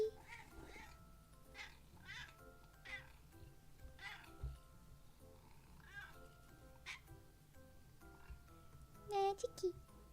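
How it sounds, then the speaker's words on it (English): A pet cat meows several times, soft and somewhat distant, spread across the span with a louder burst near the end, while a person talks quietly in between. "She meows quite a lot."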